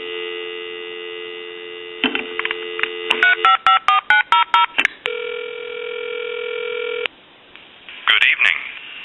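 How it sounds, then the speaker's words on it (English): A Kellogg wooden wall crank telephone sounds a steady, loud dial tone, then a tone dialer plays a rapid string of short DTMF beeps, followed by another sustained tone and a brief noisy burst. "we'll just use a tone dialer, and we'll do that real quick"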